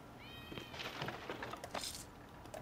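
A cat meows once near the start in Icewind Dale 2, a short, clear, rising cry, followed by scattered clicks and soft game noises.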